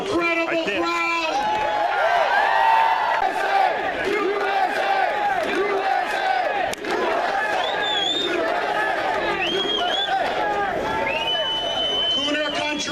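A large rally crowd at an outdoor political gathering in Boston cheers and shouts continuously, a loud, dense wall of voices with overlapping yells and whoops sustained throughout.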